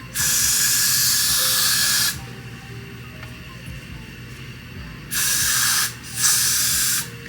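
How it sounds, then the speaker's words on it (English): Two bursts of Got2b hair spray hissing close by, a long blast followed after a pause by a shorter double spritz. "slick this back really good with some Gots to Be spray."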